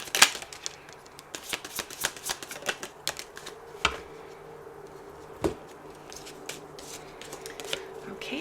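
Deck of message cards being shuffled for a twin flame reading, a steady run of quick papery riffles and flicks with a few sharper snaps, fairly close and alone.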